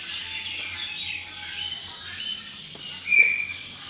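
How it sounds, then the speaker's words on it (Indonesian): A starling (jalak) calls inside an aviary at Palembang bird park, giving scattered chirps and a sharper squawk near the end over a steady hiss of background ambience. "Burung jalak."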